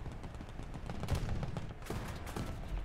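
Tank gunfire in the War Thunder game, heard as a short run of sharp bangs and crackling impacts over a steady engine rumble, moderately loud with no talk.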